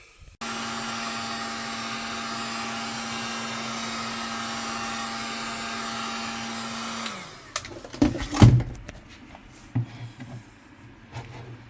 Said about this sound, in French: tu chauffes, décapeur thermique, et puis finalement ça se décolle très bien quoi